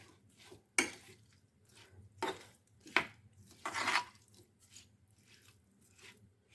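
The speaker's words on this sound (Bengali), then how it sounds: "মাছটা ভালো করে মেখে নেব।" Fish being worked by hand with a ground spice paste of black cumin and mustard for an amode fish curry, giving scattered wet squelches and soft clatters at close range, with no talk.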